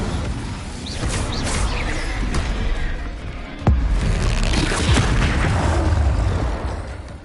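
An Incendio fire spell is cast in the video game Hogwarts Legacy, making a loud, continuous roaring blast with a sharp booming hit midway before the fiery rush fades out.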